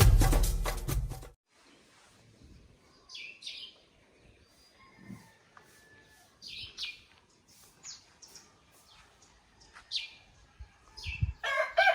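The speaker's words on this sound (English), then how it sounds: "Early morning, the cocks are crowing." Several roosters crow at intervals in the early morning in Keta, a town in Ghana's Volta region, one loud burst near the start and fainter calls from further off, with chirping birds in a quiet outdoor setting.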